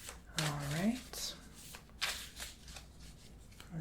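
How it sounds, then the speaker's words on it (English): Tarot cards are shuffled by hand, giving a soft, close riffling burst followed by lighter flicks and slides, quiet and intimate. "Let's shuffle through the cards"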